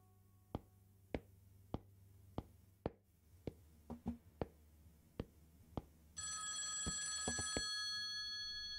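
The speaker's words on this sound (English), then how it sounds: "we're just going to have to answer someone's phone" A telephone rings in the horror video game Selene's Unbearable Night, with a regular series of sharp bell rings over a low ambient hum, joined near the end by a bright sustained tone.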